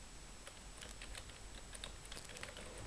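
Soft, quick clicks of typing on a computer keyboard fall in an uneven patter. The tapping is faint and close over a low, steady background hiss, and no one speaks.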